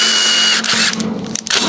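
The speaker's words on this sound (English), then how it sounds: "I'm just gonna put some little countersunk Phillips head screws in it" A powered driver drives small countersunk Phillips head screws into a custom tray, a loud close whirring burst that cuts out and restarts briefly in short pulses.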